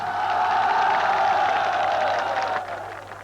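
A vast crowd of protestors in Tiananmen Square fills the air with a steady, dense roar of many voices, sustained and loud before easing slightly near the end.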